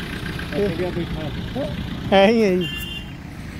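Homemade Farmtrac 35 mini tractor engine idling, a low steady rumble under a voice speaking, with background chatter layered on top.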